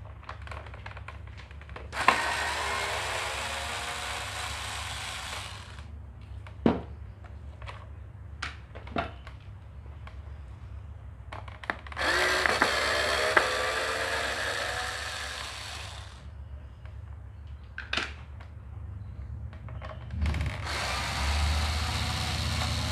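Power tool work removing the headlamp cover bolts on a Honda CBR 150R motorcycle, with several sustained whirring runs of a driver broken by short pauses, sharp clicks and metallic taps, heard close up.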